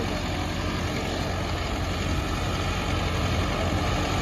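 A Mahindra Novo 75 hp tractor drones steadily while pulling a 36-disc harrow, a loud continuous low engine rumble up close.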